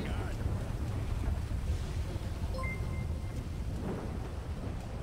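Heavy rain and rolling thunder rumble steadily through a rainy outdoor scene in a video game, a dense low roar throughout with people talking faintly over it.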